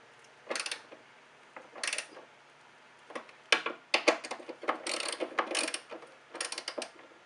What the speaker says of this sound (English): I'm going to put my ratchet on there, push the transmission into the position that I need it to be in, and then I'm going to tighten it down